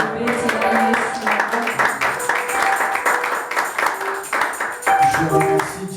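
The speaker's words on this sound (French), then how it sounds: "Nous pouvons applaudir très fort pour la gloire de Dieu." Church congregation applauding loudly at a Sunday service, a steady dense clapping that runs throughout, with tonal voices or instruments mixed in beneath.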